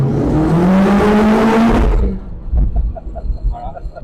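A turbocharged Mazda MX-5 engine revs hard, its loud rising whine building for about two seconds before cutting off abruptly. A quieter rumble with faint clicks follows, heard from inside the car.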